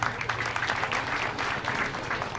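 An audience applauds President Henri Konan Bédié at the opening day of Ficad 2016: dense, steady clapping from a crowd, continuous and even throughout.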